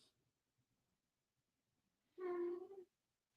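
After near silence, a cat lets out one short, clear meow of under a second, fairly close and alone.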